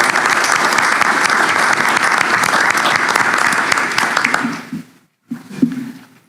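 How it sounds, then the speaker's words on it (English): An audience at a board of education meeting applauds recognized coaches with loud, sustained clapping that stays full for several seconds before fading out, followed by a brief pause and a little murmuring. "So if we just want to give them a round of applause."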